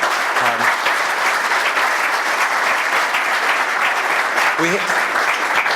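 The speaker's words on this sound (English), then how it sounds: "Let's give them a big round of applause." Audience applause after a presentation, steady and dense throughout, with a brief tonal voice or sound blip early and near the end.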